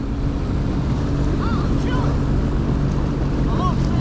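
A jet ski engine at throttle out on the water makes a steady, loud, broadband roar with wind buffeting the microphone and brief faint tonal chirps over it.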